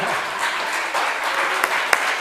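An audience claps steadily for Professor Daniel Carratala at the close of a talk, a dense, even wash of applause that continues throughout with a couple of sharper claps near the end.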